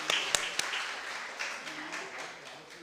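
Scattered clapping from a church congregation at a Sunday Taiwanese-language service, welcoming a new guest from Hong Kong; a few sharp claps lead into soft, thin applause with light voices underneath.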